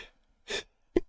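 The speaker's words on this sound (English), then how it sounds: "I'm about to sneeze again." A person sneezes: a sharp indrawn gasp, a short pause, then one abrupt explosive burst close to the microphone.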